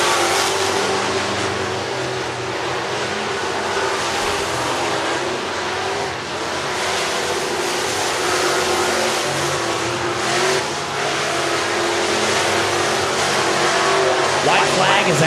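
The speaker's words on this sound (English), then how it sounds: "That's a Cadillac race car." Street stock race cars, including a Cadillac, roar around the track at Whynot Motorsports Park during the Street Stock Nationals, a continuous loud engine drone with revving surges and crowd-like background wash throughout.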